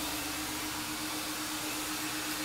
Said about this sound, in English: But look, I'm about to hit this vacuum up.